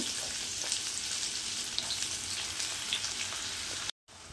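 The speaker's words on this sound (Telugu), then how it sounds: "ఆనియన్ ముక్కలు బాగా వేగాయి." Onion pieces fry in oil with cumin and mustard seeds for a ridge gourd curry, giving a loud, dense, continuous sizzle with scattered pops and a brief cut to silence near the end.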